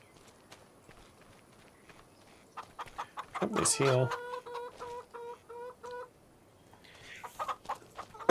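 Chickens in Farming Simulator 25 cluck and squawk in a short burst near the middle, with game footsteps and clip-clop sounds and a brief line of speech around them.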